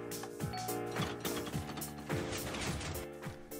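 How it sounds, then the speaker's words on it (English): Clanking, ratcheting mechanisms of a video game Rube Goldberg contraption run continuously, with repeated low thuds and bright tonal notes that fit a note block sounding amid the machinery. "so you can hear your note block"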